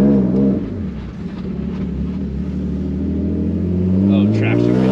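A welded-differential BMW E46 with traction control off, its engine revving loudly and steadily as the wheels spin, close and continuous, with a brief voice near the end.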